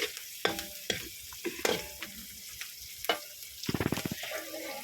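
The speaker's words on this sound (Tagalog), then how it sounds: "Gisa-gisa lang natin muna ng maayos para maganda yung ng translucent ng sibuyas at bawang" Onion and garlic are sautéed in a pan: a faint background sizzle under close, sharp scraping and clattering stirring strokes, coming in irregular bursts with a quick rattling flurry near the end.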